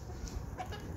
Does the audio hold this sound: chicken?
yes